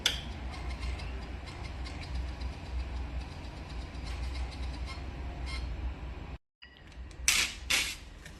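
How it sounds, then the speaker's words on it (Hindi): An HDC Lyte ABG analyzer prints a report with a quiet, steady mechanical whir and faint rattle, then a brief stop followed by a few clicks. "अब ये मशीन क्या कर रहा है, ऑटोमेटिक इस चीज़ को प्रिंट कर दे रहा है।"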